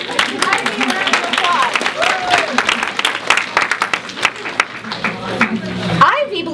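An audience of listeners claps for a young speaker named Ivy, a scattered round of applause with sharp individual hand claps, while a voice keeps talking over it throughout.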